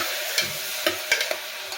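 Washed dal being stirred into a kohlrabi and onion mixture in a cooking pot, with a light background sizzle and a few scraping strokes of the spoon, close and alone.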